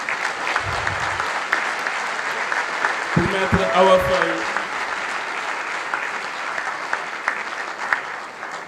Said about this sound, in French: des applaudissements encore plus nourris